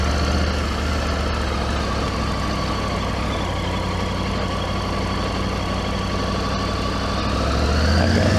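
Triumph Tiger 900GT motorcycle engine running steadily while riding, a continuous loud drone with a slight rise in pitch near the end, no voices.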